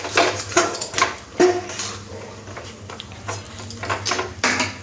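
Spiced chop filling stirred in a pan, a spatula scraping and knocking against the metal in uneven strokes, close and moderately loud over a faint steady hum.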